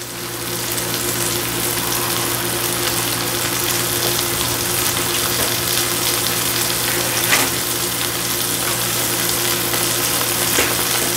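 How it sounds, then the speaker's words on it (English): Beef browning in a hot pan for a beef and broccoli stir-fry, a loud, continuous, even sizzle that holds steady throughout with a steady low hum beneath. "Now I ain't gonna bore you with the whole process of browning this meat"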